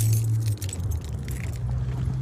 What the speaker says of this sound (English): It's gonna unlock it, get inside.